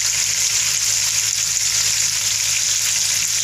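A South Indian tempering of cumin, pepper, dried and green chillies and curry leaves sizzling in a pan for gooseberry dal, a loud, even, continuous hiss close up with no voices.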